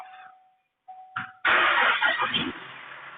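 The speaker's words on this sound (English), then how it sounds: "And I have a car start behind us." A car engine cranks and catches behind the speaker outdoors, a short burst of starter noise followed by a loud, rough idle that settles after a moment.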